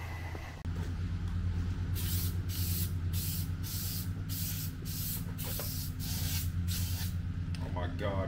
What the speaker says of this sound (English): Oh my god, it sprays so hard. Oh, the can is broken.